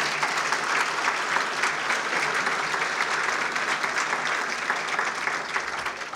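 A seated audience at a regional chamber of commerce event gives sustained applause, a dense, even wash of many hands clapping at moderate volume for several seconds with no talking.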